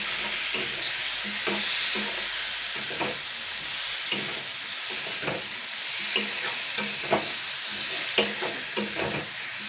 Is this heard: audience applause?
no